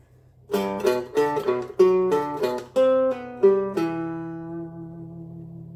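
A string of about a dozen plucked guitar notes from a major seventh warmup exercise in a slow, uneven rhythm, the last one left ringing and fading out.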